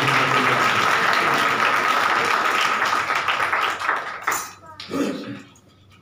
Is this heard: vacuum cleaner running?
no